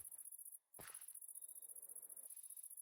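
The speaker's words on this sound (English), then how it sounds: "we got the immersive sounds with the crickets or cicadas" Crickets or cicadas chirping as ambient night sound in the video game Minecraft, a faint steady high-pitched pulsing trill that runs continuously, briefly cut once, alone without talk.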